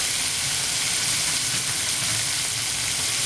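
Bacon sizzles and crackles steadily in a hot pan for a dates-and-bacon sandwich, a dense, even frying hiss that continues alone without pause.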